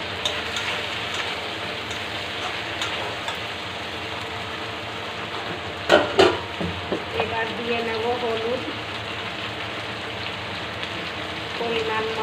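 Pointed gourd (potol) sizzles in hot oil with ginger and green chilli, a steady rain-like frying hiss, with a few clattering knocks midway.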